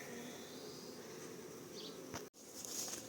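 Honeybees buzzing inside a swarm trap, a dense and steady drone close to the ear with a brief cut partway through, and no voices.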